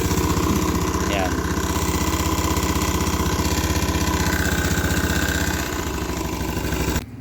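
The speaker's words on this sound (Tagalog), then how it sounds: "paparinig ko sa inyo yung tunog ng makina ng panggilid natin" A motorcycle engine idles loudly and steadily with a noisy, rattling CVT pulley, a continuous close-up drone that dips slightly just before it cuts off.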